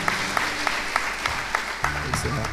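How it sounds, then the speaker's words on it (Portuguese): A church congregation claps in a steady, even rhythm of sharp beats, with voices and a low hum running beneath. "Vamos aplaudir bem forte."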